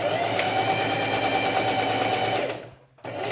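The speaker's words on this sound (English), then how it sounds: "And sew down." Sewing machine stitching fabric for a simple face mask, a steady fast mechanical whir running continuously up close, then briefly stopping before starting again.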